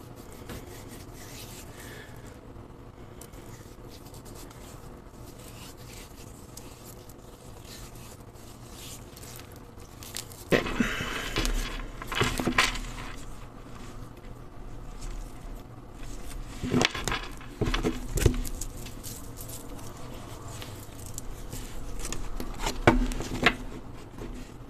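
Tarot cards being shuffled by hand, a quiet rubbing and scraping at first, then several bursts of riffling and slapping card sounds close to the microphone, with pauses between them.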